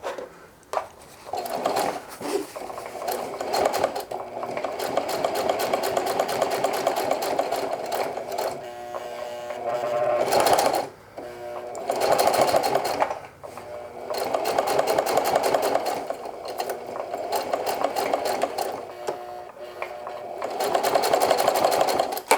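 A sewing machine back-stitches along the hem of a pair of denim jeans, its loud, rapid mechanical chatter running in long bursts with short pauses and a sharper clunk near the middle.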